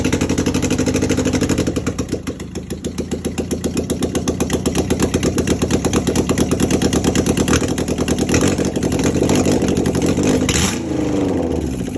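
A 1971 Sterling Nova engine runs with a fast, steady rhythmic chugging and revs up and down, loud and close for the whole stretch with no talk over it.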